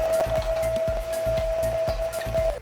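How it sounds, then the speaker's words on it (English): A vacuum cleaner sucks dust off the top of a supercharged Audi 3.0 V6 engine during a service, giving a steady close whine with rhythmic scraping knocks as the nozzle moves. "use a vacuum cleaner just to clean off any dust, any bits around here so it doesn't get into any of the engine parts"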